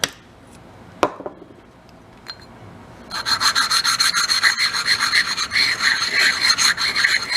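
A carburetor part from an old amusement park ride being sanded with oil-soaked sandpaper: a few faint knocks, then continuous rapid back-and-forth rasping strokes, close and fairly loud, no voices.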